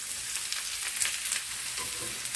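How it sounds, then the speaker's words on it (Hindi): Finely chopped onion sizzles and crackles in hot mustard oil in a pan, a dense, continuous frying hiss with small pops and stirring sounds close by. "अब मैं यहाँ पे ये बारीक चॉप किया हुआ अनियन डाल दूँगी।"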